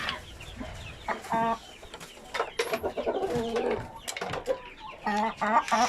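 Hens cluck in irregular bursts nearby, with a rooster among them in a backyard coop, the calls overlapping and varying in loudness over six seconds.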